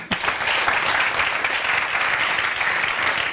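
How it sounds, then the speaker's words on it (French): Studio audience applauding on the RTB television show Le Samandé, a full, steady burst of clapping that begins abruptly and carries on evenly throughout. "C'est bien, on applaudit."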